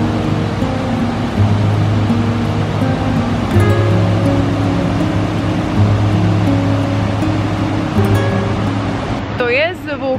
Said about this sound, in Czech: To je zvuk, jak ta voda padá